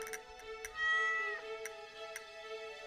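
White stray cat in the Stardew Valley video game meowing a few times, a clear sustained game-sound meow over quiet ticking, with no talking.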